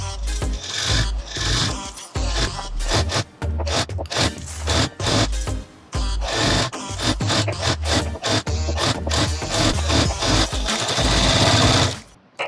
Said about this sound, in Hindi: इस पर चारों तरफ सिलाई चलानी है